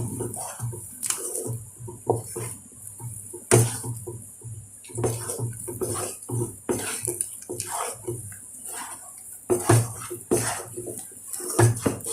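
Thick semolina dough for potato fingers is stirred in a pot over low heat: irregular scraping, thuds and metallic knocks of the spoon against the pot, repeating close up.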